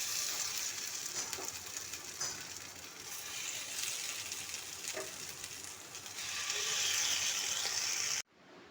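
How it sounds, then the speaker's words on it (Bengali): A second batch of chicken sticks fries in hot oil with a steady, dense sizzle, occasionally crackling louder, swelling near the end before stopping abruptly. "এবারে একইভাবে সেকেন্ড ব্যাচের চিকেনগুলোকেও ভালো করে ভেজে নিতে হবে।"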